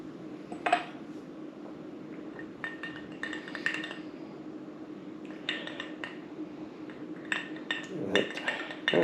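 Ice cubes clink and rattle against a glass of Angel's Envy bourbon, a series of bright, close clicks and taps scattered irregularly over a steady low hum, with no talking.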